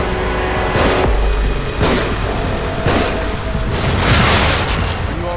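Dynamite explodes in The Evil Within as several loud, heavy booms spaced about a second apart, each a sharp burst that fades into crackling debris over a constant low rumble.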